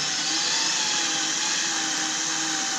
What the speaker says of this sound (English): take your spot weld cutter, put that in the center of it, drill it out.